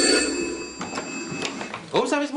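Telephone ringing on a stage set during a boulevard comedy set in a hotel room, one short electronic ring at the start, followed by indistinct voices.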